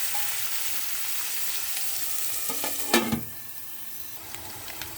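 Bitter gourd pieces frying with browned onions and ginger in a pan, a continuous close sizzle with a brief clatter of stirring near the middle, then quieter frying, no talk.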